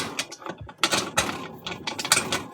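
A snare drum strainer mechanism is unscrewed by hand, giving rapid ratcheting clicks and small metallic grinding bursts in quick, uneven succession, close and fairly loud.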